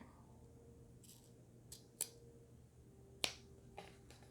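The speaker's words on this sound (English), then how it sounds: "when you get right to this V right here, you definitely want to cut into it" Scissors snip into sewn fabric at the V seam of a shirt, making a few sharp, crisp clicks spaced unevenly over a quiet, faint background.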